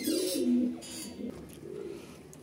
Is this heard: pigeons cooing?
yes